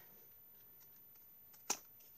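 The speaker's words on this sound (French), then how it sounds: "je prends une paire de ciseaux et je viens enlever," Scissors make a single sharp snip trimming excess paper from a handmade album, a brief crisp cut preceded by faint rustling in an otherwise quiet room.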